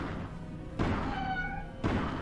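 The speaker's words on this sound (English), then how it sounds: "Sounds like a cat." A cat-like creature in the video game We Need To Go Deeper lets out a couple of short, tonal meowing cries, fairly close and clear, with no talking.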